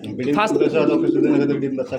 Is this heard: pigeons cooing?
yes